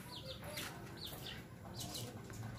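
Arab laying hens cluck and squawk in short, repeated bursts, nearby but fairly quiet, over a low background hum.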